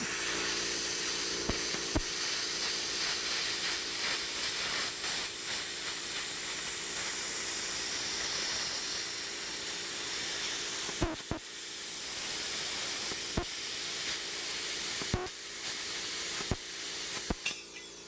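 A BestArc plasma cutter on 110 volts, 15 amps and 50 psi slicing 20 gauge mild steel, giving a loud continuous roaring hiss of air and arc throughout, broken by a few sharp clicks and brief pops, no speech.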